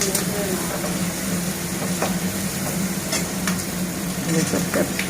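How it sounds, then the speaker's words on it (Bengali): Food fries in a pan with a steady sizzle while a utensil stirs and scrapes in short, repeated strokes. "এবার একটু ভাজা হবে"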